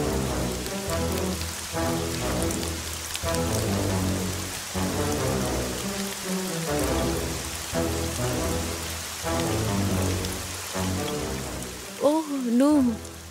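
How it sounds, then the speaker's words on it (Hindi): Heavy rain pours down steadily with a dense, even hiss and patter, mixed with background music, and a voice briefly breaks in near the end. "तेज बारिश होने लगी।"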